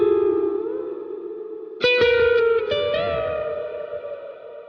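Electric guitar through a Blank Electronics Reaching pedal and a Strymon Big Sky reverb, set for a vast hall-like space: a held, shimmering chord, then two fresh strums around the midpoint that bloom and slowly decay, close and steady, with no voices.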